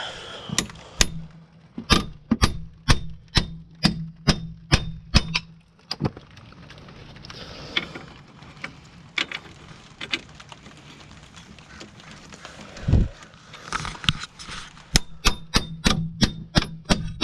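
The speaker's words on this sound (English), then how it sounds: "Yeah, keep pounding on it." Metal hammer blows ring out against a stuck stud-like bolt while axles are pulled from a Bonneville SSEi 3800 Series II. Sharp clanging strikes come in fast rhythmic bursts, with a quieter stretch of scattered knocks in the middle.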